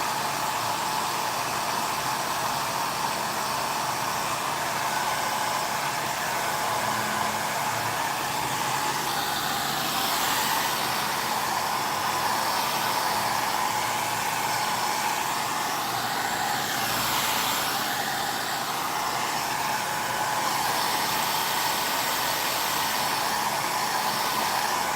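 A hair dryer blows on a stenciled floral craft box, a loud, steady close-up whir that runs without a break from start to end.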